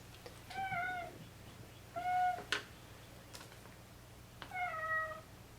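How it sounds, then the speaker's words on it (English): A pet house cat meows three times, wanting to be let outside, each call drawn-out and fairly close in a quiet room, with faint clicks between. "That's my kitty cat wanting out this morning."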